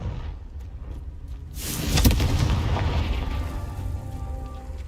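A Confringo fire spell from the video game Hogwarts Legacy bursts into one loud, rumbling blast midway, and a roaring rush follows it and slowly fades.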